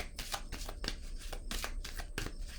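Tarot cards shuffled and handled for a reading, a close, dry riffle of papery flicks and slaps coming in quick bursts over about two and a half seconds, with no voices.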